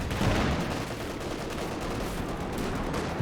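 An M2 .50 cal machine gun fires in Company of Heroes 2, a dense, steady stream of rapid shots over battle noise that holds for several seconds.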